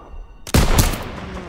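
Sudden loud crack of gunfire with a short follow-up report in the World War II video game Battle of France, set during a town-square firefight, rising abruptly out of quiet background noise.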